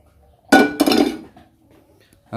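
A frying pan set down on a stove gives two close, loud metallic clanks in quick succession that ring briefly and fade into quiet.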